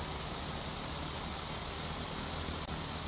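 A diesel engine in Stormworks runs flat out at full throttle, a steady, dense roar with a low rumble and a high whine held unbroken and close throughout.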